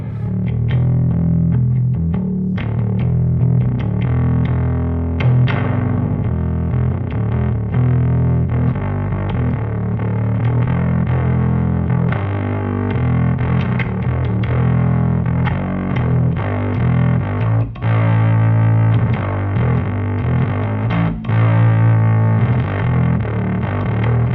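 An electric guitar runs through a Benson overdrive pedal set between clean boost and high-gain drive, giving sustained, gritty chords and riffs with a thick low end, loud and alone for about twenty-four seconds.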